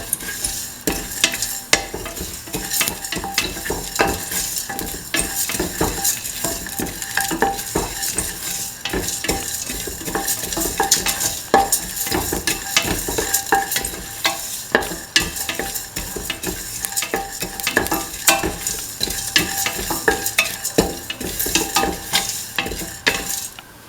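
Ginger and garlic sizzling in a hot pan while a utensil stirs and scrapes steadily, a continuous close frying crackle with no talk.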